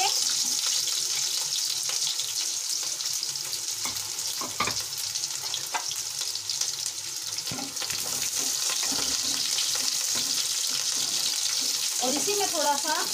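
Garlic cloves and onion hit hot oil and fry in a steady, loud, continuous sizzle with occasional stirring clatter near the end.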